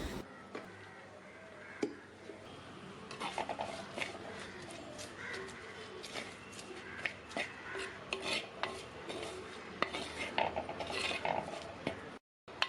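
Turmeric, coriander and chili powder roasting in a pan for a restaurant-style fish curry, with a utensil scraping and clinking against the metal in quiet, irregular bursts over a low background hiss.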